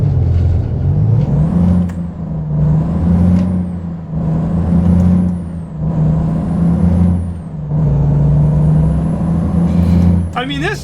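Heavy truck in American Truck Simulator, its low engine drone rising and falling through gear changes, with repeated sharp air-brake hisses and releases at regular intervals, loud and close, a voice talking intermittently over it.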